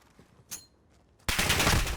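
M13 rifle fire in a 1v1 gunfight video game tournament: a faint click and thud, then a sudden loud, dense burst of automatic shots that carries on to the end.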